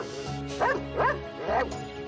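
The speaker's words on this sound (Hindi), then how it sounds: "अबे कुत्ते, भौंकना बंद कर।" A dog lets out three sharp, mid-loud barks in quick succession, each about half a second apart, over a steady low background hum.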